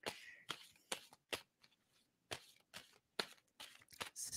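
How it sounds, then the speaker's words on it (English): Tarot cards are shuffled by hand in a series of short, crisp riffling bursts, about a dozen quick flutters separated by brief pauses, close and quiet. "tell me when to stop shuffling"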